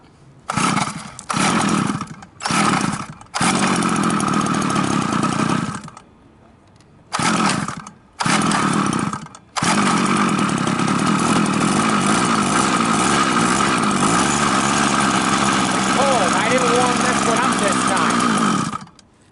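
Lamborghini engine cranking in several short bursts, then catching and running at a loud, steady, rough idle close by for about ten seconds; a voice can be heard.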